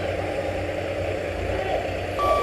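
A bus maneuvers in a street with a low engine rumble, and a steady electronic tone rises near the end of the brief stretch.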